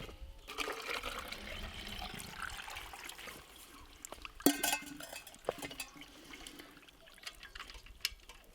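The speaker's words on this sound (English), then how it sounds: "Now the water starts to pour." Water pours and trickles into the water cavity of a cottage water pump, a continuous gurgling flow with scattered splashes and drips heard close up.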